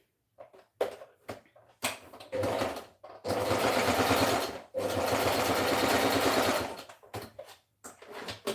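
A sewing machine stitches a straight seam in short bursts and then two longer runs, with a close, steady mechanical whir and clatter separated by pauses. No one speaks.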